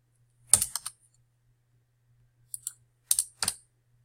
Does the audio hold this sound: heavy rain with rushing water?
no